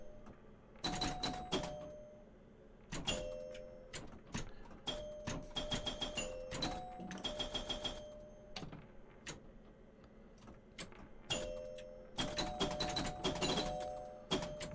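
Bells and chimes of the Bally Flip Flop virtual pinball table ring in quick clusters of bright metallic strikes and tones, separated by short gaps, with a faint steady hum underneath.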